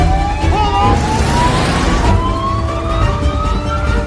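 Police patrol car siren wailing during a car chase, a rising and falling tone sweeping over loud engine and road rumble, close and continuous, with a faint voice underneath.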